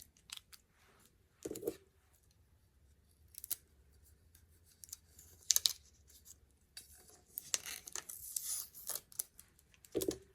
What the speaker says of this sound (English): I am just removing the tape here